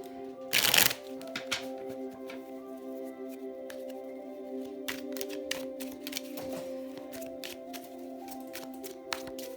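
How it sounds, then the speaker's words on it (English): A Tarot del Fuego tarot deck is shuffled in one quick riffle, followed by light scattered card flicks and rustles over a steady background hum. "Okay, group 3 with the Tarot del Fuego."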